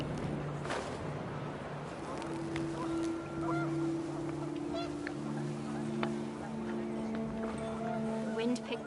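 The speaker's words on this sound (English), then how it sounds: "The wind picked up, and panicked geese appeared and quickly went." Panicked geese honk repeatedly in What Remains of Edith Finch, scattered nasal calls over gusting wind, mixed with a steady low drone and a voice talking over the scene.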